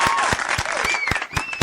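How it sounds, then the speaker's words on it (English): A group claps for a man, a short burst of applause with sharp, dense hand claps, fairly loud and close, while a few voices and whistles sound faintly underneath. "So I'm going to give him a clap. Give him a clap."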